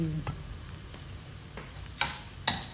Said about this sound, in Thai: ค่อยๆผัดไปเรื่อย ๆนะคะ ผัดให้มันเข้ากัน